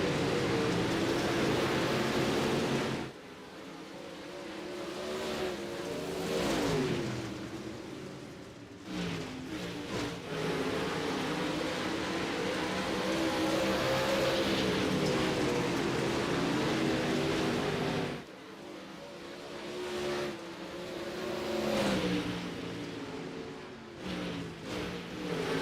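Dirt track race car engines drone steadily during warm-up laps, a continuous broad roar that swells and dips as the cars pass, fairly loud and far.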